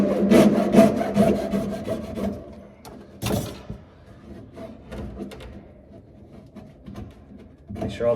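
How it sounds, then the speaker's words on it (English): A hacksaw blade cuts a kitchen sink drain pipe with quick, loud rasping strokes at first, then one sharp burst, then quieter scraping. "we're just going to take our hacksaw blade again, cut off just a little bit."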